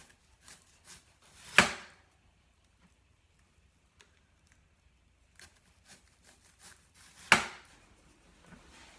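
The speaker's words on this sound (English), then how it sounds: "I can cut onions all day long" A knife chops onions for a Roquefort salad in two sharp, isolated strikes several seconds apart, each followed by a few faint taps and clicks against a quiet background.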